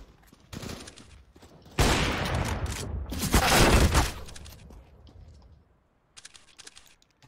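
Gunfire from a PUBG or CS:GO match: a dense burst of automatic shots fills the middle seconds, loud and close, framed by sparse clicks and quieter shots before and after.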